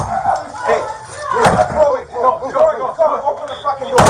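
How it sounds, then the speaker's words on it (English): Police officers kick at a door during a domestic violence call involving a knife-wielding suspect, with a loud slam near the middle and another at the end, under urgent, overlapping shouting. "Kick the door."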